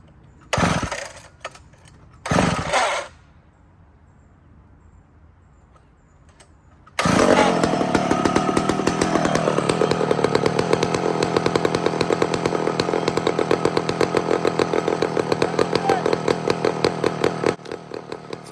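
A big timber chainsaw sputters through a couple of short pulls, then roars to life and runs loud and steady close by, idling high with a fluttering revving rhythm until it cuts out near the end.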